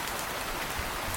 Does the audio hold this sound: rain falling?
yes